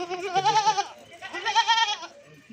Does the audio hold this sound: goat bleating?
yes